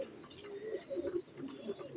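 Pakistani highflyer pigeon chicks coo softly and faintly, a few low, rounded murmurs rising and falling over a quiet background.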